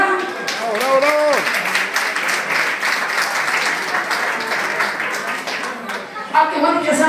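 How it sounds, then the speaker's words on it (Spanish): Steady applause and clapping from a live audience at a Mexican music show, saluting a departing singer, continuous for several seconds with voices talking over the crowd and a few tonal sung or spoken phrases near the start and end. "aplauso por ahí para Brenda que ya se va"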